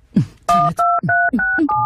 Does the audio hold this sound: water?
no